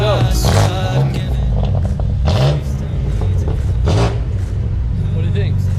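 A car fitted with new glass pack mufflers and exhaust tips revs with a throaty, rumbling engine note, loud and close, rising and falling, while people talk over it.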